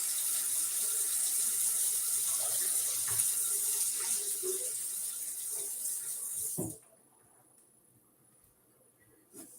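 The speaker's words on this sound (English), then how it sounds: "I'm just rinsing that right in my stainless steel sink" Running tap water splashes over a stencil being rinsed in a stainless steel sink, a steady close wash that cuts off abruptly near the end, leaving a faint quiet room.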